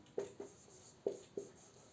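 Marker or chalk strokes writing a chemical compound name on a board, four distinct short scratchy taps in two pairs, close and fairly quiet, with no voice.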